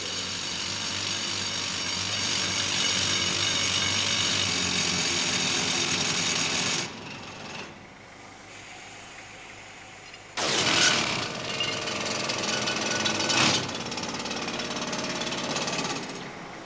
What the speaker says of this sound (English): They're drilling up there so we can put a bolt in to secure the roof.